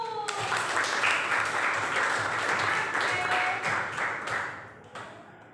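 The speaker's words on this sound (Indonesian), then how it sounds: "Tepuk tangan dulu." Students clap their hands together in a classroom, a loud, steady burst of many hands that lasts several seconds before tapering off.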